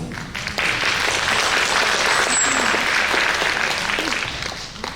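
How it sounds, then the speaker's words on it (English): An audience at a high school orientation night breaks into applause, dense clapping that swells quickly after a brief quieter start and keeps going steadily, with a few faint voices mixed in. "Please give her a round of applause."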